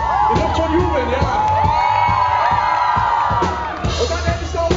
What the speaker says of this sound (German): Ihr dürft schon jubeln, ja.